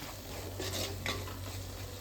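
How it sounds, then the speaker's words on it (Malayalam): A spoon scrapes and clinks softly in a pan while prawn pickle with vinegar and mustard is stirred over low heat, with a faint background sizzle and no speech. "ഇനി ഇത് നന്നായിട്ടൊന്ന് ഇളക്കുക."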